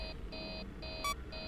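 Ventilation error alarm from the video game Five Nights at Freddy's 3, a repeating electronic beep in even on-off pulses with a short brighter chirp between them, quiet and alone with no talk.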